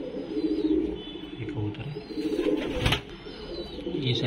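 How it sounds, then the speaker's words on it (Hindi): A Sendha pigeon coos in low, repeated rolling phrases, fairly close, with light background noise and no talk. "ये सेंधा कबूतर है भाई"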